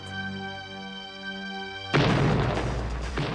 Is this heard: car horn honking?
no